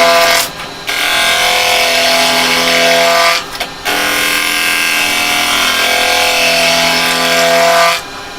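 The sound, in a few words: woodturning gouge nibbling corners off a spinning blank on the lathe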